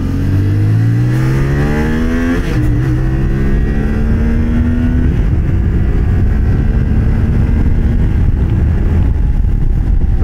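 A Thrike Xcape adventure touring motorcycle is ridden with its engine droning loud and steady, the pitch rising and falling through several rev sweeps over constant wind rush.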